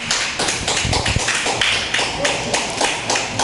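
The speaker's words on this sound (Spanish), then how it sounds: "Denle un aplauso al Señor." A church congregation claps along in rapid, irregular bursts, a steady busy patter of hands filling the room with a few heavier thuds mixed in.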